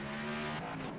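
An Xfinity Series race car revs in a racing video game set at Daytona, a loud, continuous engine whine with a slight dip partway through and no talking over it.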